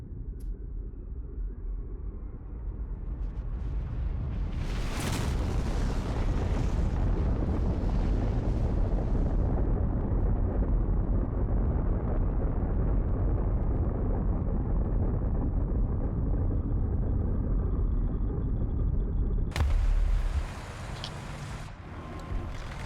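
A bomb goes off in a tank battle video game, a sharp blast giving way to a long, loud, roaring rumble that holds steady, then cuts to a brief, different burst near the end.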